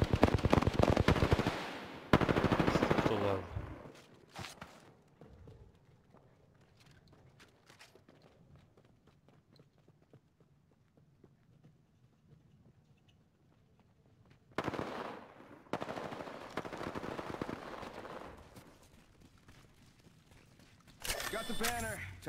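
Rapid automatic gunfire in Apex Legends comes in loud bursts at the start, in the middle and at the very end, separated by a long quiet stretch, while players talk.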